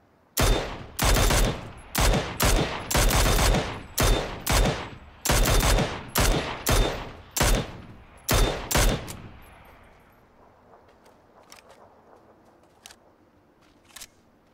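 A Mini-14 rifle in PUBG fires about a dozen loud, sharp shots in quick, slightly uneven succession. The final report rings out into a decaying tail, followed by a few faint, sparse clicks.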